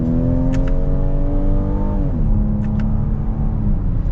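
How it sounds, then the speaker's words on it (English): The engine of a 2022 Ford Edge ST SUV accelerates in sport mode under manual paddle shifting. It revs steadily and loudly close up, shifts at about the two-second mark, then pulls on at a lower pitch, with no talking. "Wow, this is an engine for an SUV like this."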